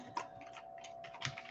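Typing a profile bio on a computer keyboard: a few faint, quiet key clicks in an irregular rhythm against a low background hum.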